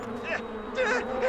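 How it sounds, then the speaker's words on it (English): Bees swarming and attacking a man in The Sims 2: a buzzing insect drone with pulsing wingbeat tones that swell and fade, moderately close, with faint voice-like murmuring mixed in. "The man is being attacked by bees."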